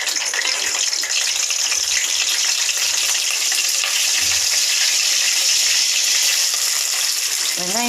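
Whole spices, bay leaf, cardamom, cloves and stone flower, sizzling and crackling steadily in hot oil for chicken gravy, a loud, dense frying hiss close up with faint stirring underneath.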